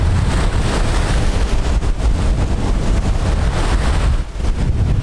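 Rough ocean surf churning and breaking offshore beyond a calm channel, a dense continuous roar of waves mixed with heavy wind buffeting the microphone, loud and steady throughout with no speech.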